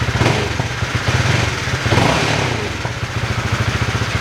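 Honda CBR150R motorcycle engine revved in a throttle test, a loud close rumble with repeated quick blips of the throttle, steady low engine pulses throughout with no talking.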